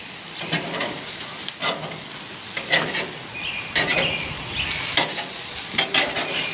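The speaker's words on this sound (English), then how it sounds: "This time I'm gonna let them grill high heat for 2 minutes too" Chicken drumsticks sizzle on a grill over high heat, a steady bright crackle broken by several sharp clanks and scrapes of tongs turning the pieces, close and fairly loud with no talking.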